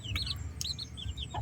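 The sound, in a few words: hen clucking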